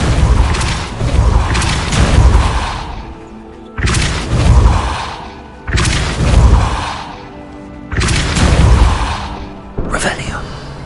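Depulso force spell cast over and over in Hogwarts Legacy on PlayStation 4 Pro, four loud booming whooshes with heavy low thumps, each roughly two seconds apart, with a short sharper hit at the end.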